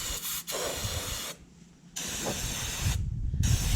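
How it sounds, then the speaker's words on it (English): Brake cleaner sprays from an aerosol can onto a car axle area in loud, close hissing bursts, with two brief pauses between longer blasts. "So I'm just using regular old brake cleaner."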